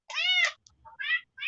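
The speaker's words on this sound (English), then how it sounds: "Sorry about the cats here in the background there." Cats meowing in a home during a casual video call, a long harmonic meow followed by two shorter ones, fairly close and clear with no talk over them.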